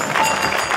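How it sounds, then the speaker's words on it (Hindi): A crowd at a bhajan performance in Bikaner briefly claps for the city's old devotional singers, giving a short burst of dense, moderately loud clapping with no talk over it. "एक बार उन कलाकारों के लिए जोरदार तालियां बजा दो"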